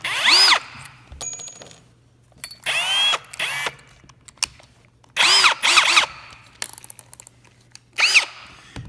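A power drill cuts countersinks into wood in several short bursts, each whirring spin up and down separated by pauses and faint clicks, close and clear with no talking.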